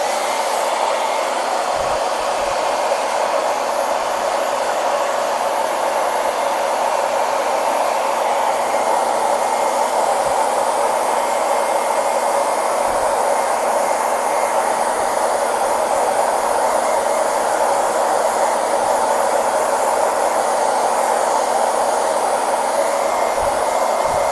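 A hair dryer blows steadily on a watercolor painting, a loud, unbroken whooshing hum that runs without a break and without voices.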